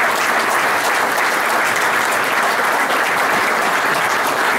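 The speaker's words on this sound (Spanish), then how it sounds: "aplaudan con fuerza" Loud, sustained applause from a crowd at a commemorative event for a bocce club's 75th anniversary in Río Cuarto, Argentina, thick and even clapping filling the whole stretch without speech.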